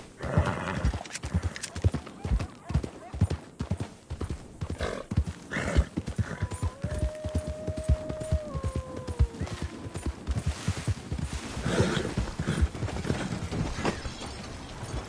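Horse hooves clip-clopping at a steady pace in Red Dead Redemption 2, with a loud whinny partway through, heard close over continuous game ambience.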